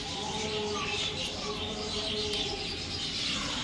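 A newly hatched budgerigar chick gives thin, faint peeping chirps, a few brief calls over a steady background hiss.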